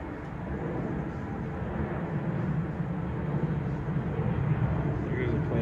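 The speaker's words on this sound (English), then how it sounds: "There's a plane in the foreground taking off" An airplane taking off in the foreground, a steady, loud broadband roar with low rumble that holds and swells slightly throughout, with a voice speaking faintly underneath.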